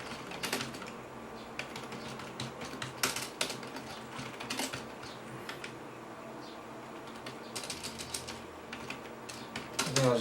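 Typing on a rubber dome IBM keyboard while writing C code, a brisk, uneven run of soft key presses with bursts and pauses, close and steady throughout.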